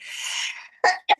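A person sneezes once, a drawn-out breathy burst followed by two short sharp sounds, close and fairly loud in an otherwise quiet room.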